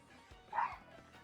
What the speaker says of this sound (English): It sounds like the dog is going crazy again.